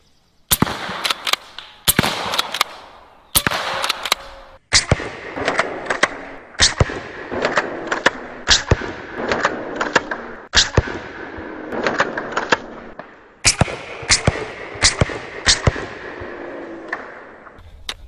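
Repeated shots from an AEA Megalodon pump-action airgun firing slugs into fruit such as cantaloupes and watermelon on a table, sharp loud cracks in quick bursts with brief pump-action clacks between volleys, no talking.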